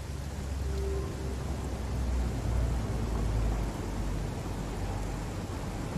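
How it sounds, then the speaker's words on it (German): Steady rain falling in the video game Satisfactory, a continuous broadband hiss with a low rumble underneath, unbroken for the whole stretch and free of talk. "Ich dachte schon, ach, es regnet wieder."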